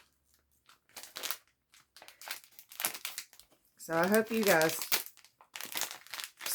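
Loud crinkling and crunching of plastic packaging in short bursts, alternating with a person talking quietly between them.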